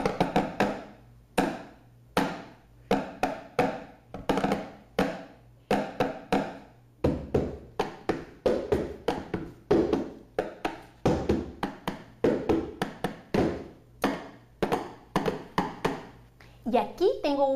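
Small sticks strike an empty box like a drum in quick, sharp, woody taps that come in clustered rhythmic bursts. The sound is close and moderately loud, and it continues steadily with short gaps between the runs.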